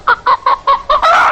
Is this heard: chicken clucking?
yes